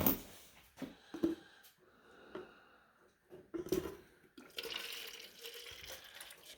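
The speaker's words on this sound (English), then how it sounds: "Just getting the water filled up." Water pours to fill up a container for rabbits during a New Brunswick snowy spell. It is faint and splashy, with scattered knocks early on and a steadier rush toward the end.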